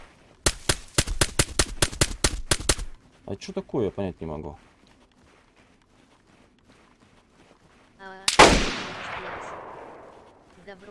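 Gunfire in the online survival game DayZ: a fast burst of sharp shots at the start, a few scattered muffled shots, then one loud close blast with a long ringing decay, while someone speaks briefly.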